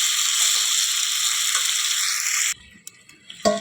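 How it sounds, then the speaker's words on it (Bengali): Pumpkin, potato and chickpea curry sizzles loudly as it is stir-fried in a pan, a steady close frying hiss that stops abruptly partway through, followed by a few faint clinks and scrapes of stirring. "ভালো করে কষিয়ে নেব"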